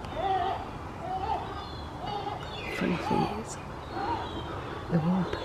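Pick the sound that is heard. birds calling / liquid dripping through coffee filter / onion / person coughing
birds calling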